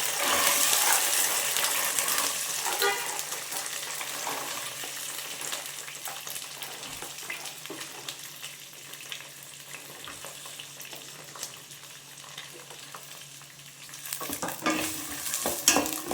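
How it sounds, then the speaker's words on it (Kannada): Green peas frying in hot oil in a pan, a loud crackling sizzle at first that settles into a quieter steady bubbling, with stirring scrapes and a burst of stirring and sizzle near the end, no talking. "ಸ್ವಲ್ಪ ಎಣ್ಣೆಯಲ್ಲಿ ಬಟಾಣಿ ಫ್ರೈ ಆಗಲಿ"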